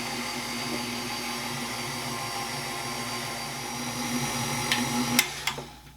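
An electric hand mixer whirs steadily through paczki dough in a home kitchen, its motor drone constant and close, ending with a few clicks and knocks as the beaters stop.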